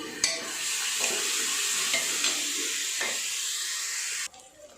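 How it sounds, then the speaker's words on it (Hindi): Chopped tomatoes and green chillies frying for a chhole curry in a pan, a loud, steady close sizzle with a few light spoon clinks that cuts off abruptly near the end. "अभी हम इसमें ये टमाटर डालेंगे और ये हरी मिर्ची जो है वो डालेंगे और टमाटर को भी हम थोड़ी देर भूनेंगे।"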